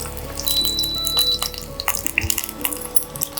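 Garlic sizzling and crackling in hot ghee, with scattered pops and a few clinks of a utensil against the pan.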